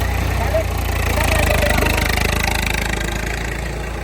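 A tractor engine idles close by, a steady low mechanical rumble that runs unbroken through the moment, with faint voices underneath, on a farm where maize is being sown.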